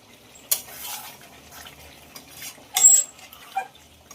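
Fried potatoes tipped into chicken simmering in a pot: a few distinct scraping and clattering bursts of utensil against metal, with quiet gaps between them and no talk.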